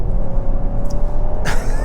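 2024 Genesis GV70 AWD 3.5T Sport Prestige with a V6 engine, heard from inside as it accelerates: a loud, steady low engine rumble with a brief hiss near the end.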